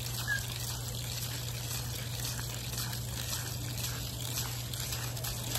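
Water from a garden hose rinses a surface during glitter power wash work, a steady broadband spray and trickle running unbroken throughout at moderate level, with a constant low hum beneath.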